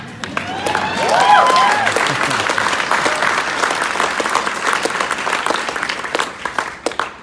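A keynote audience at a math event bursts into louder, fuller applause with a few cheers and whoops early on, the clapping sustained and dense before thinning into scattered claps at the end.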